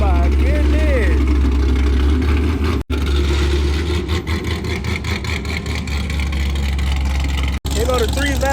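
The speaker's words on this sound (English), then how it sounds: "Y'all can't hear me over that chopping car over there." A loud, choppy-idling car engine rumbles steadily at an outdoor car meet, its lumpy low idle running continuously beneath nearby talking.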